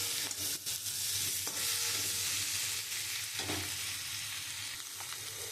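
Chilli, turmeric and cumin powders with salt sautéed in hot oil for a papaya-potato fish curry, giving a dense continuous sizzle with occasional spoon scrapes, close up and without speech.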